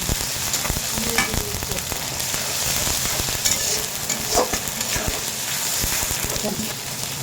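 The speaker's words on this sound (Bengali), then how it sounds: "এখানে চুলা পেঁয়াজ মরিচ বসাই ভাজা নিলাম" Onions and chilies fry and sizzle in a hot pan on a stove, a dense crackling hiss with occasional stirring scrapes, close and steady.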